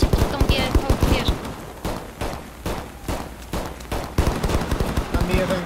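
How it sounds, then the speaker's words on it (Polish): Rapid gunfire bursts from the tactical shooter Ready or Not, loud, repeated sharp shots in quick volleys across the whole stretch with brief pauses between strings, some faint speech-like sound mixed in. "Jeden gość strzela z okolic tej wieży."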